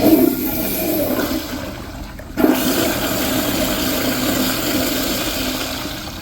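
An American Standard Madera toilet with a ball rinse flushes loudly, a sharp surge up front, a brief dip, then a second rush of swirling, draining water that runs steadily to the end with no talking.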